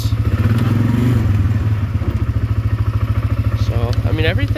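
A 2005 Can-Am Outlander 400 Max ATV engine idling close by, a steady pulsing thump with some mechanical clatter, the rhythm quickening slightly, while a person talks nearby.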